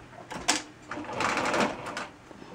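A sewing machine runs fast across a wedding gown bodice being taken in, a close, steady whirring hum with a few sharp clicks near the start.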